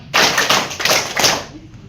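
Children clap hands together in a counting game, a run of four even claps landing about every half second, close and crisp, then fading off.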